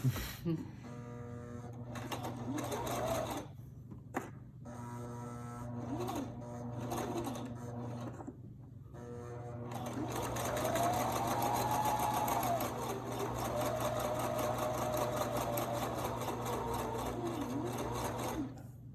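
An electric sewing machine stitching a fabric face mask hums and whirs steadily at close range, with short stop-start bursts early on, then a longer continuous run, while a person talks over it.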